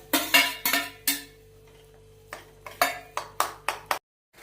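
A spoon clanks against a pan while spinach is stirred into peas, with clear metallic knocks in two bursts, a few early and a quick run of five or six toward the end.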